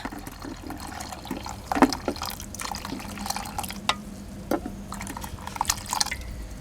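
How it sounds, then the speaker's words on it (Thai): Clean water is poured into a pot of corn for a Thai corn and pandan dessert. Close splashes and irregular drips and trickles rise and fall over several seconds. "แล้วก็ตามด้วยน้ำสะอาดน้ำปกตินะคะ"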